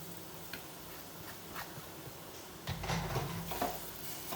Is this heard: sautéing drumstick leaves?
yes